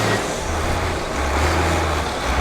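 A fire truck drives with a loud, close, dense engine roar and broadband road noise that holds steady throughout, with no talk.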